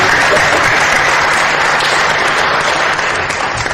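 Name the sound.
audience applause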